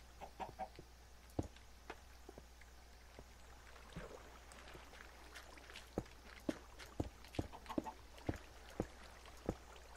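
Minecraft chickens cluck in short, scattered bursts, quiet but distinct, clustering more densely toward the end over a low steady hum; no speech.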